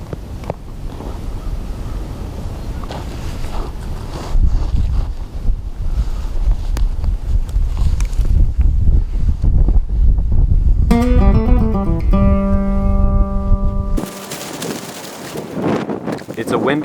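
Strong wind blows across a sunny mountain hillside, buffeting the microphone in loud, uneven gusts, with a few tonal beeps and a brief quieter break near the end.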